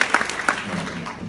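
Audience applause at a convention panel, a short burst of clapping from the crowd that fades within about a second.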